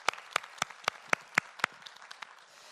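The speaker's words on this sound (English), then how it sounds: "So I want you to give them a big applause" Scattered applause from a small conference-panel audience: about nine distinct, sharp hand claps spread unevenly over roughly three seconds, fairly quiet, with no talking.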